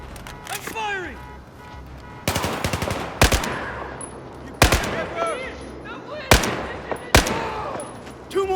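Gunfire in the video game Battlefield 4 comes as several sharp, loud bursts, some rapid automatic strings and some single cracks, with voices talking between and over the shots.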